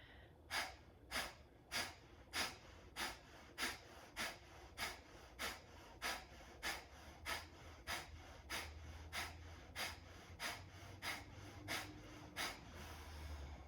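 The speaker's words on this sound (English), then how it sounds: "We'll do 20 breaths for each round." Deep, rhythmic breaths during a breathing exercise, a steady run of about twenty sharp, evenly spaced inhales and exhales, close to the microphone and fairly quiet, with no talking.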